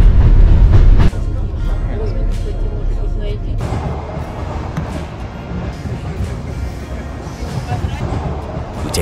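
A local train rumbles along the rails of the Circum-Baikal Railway near Lake Baikal, Russia, with rhythmic clattering and bumps, heard from inside a carriage with a loud jolt near the start.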